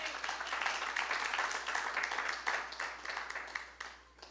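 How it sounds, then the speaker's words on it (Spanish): Congregation at a church service clapping as an offering to the Holy Spirit, a fairly faint, steady patter of many hands applauding together for a few seconds. "¿Cuánto le damos una ofrenda de palmas al Espíritu Santo?"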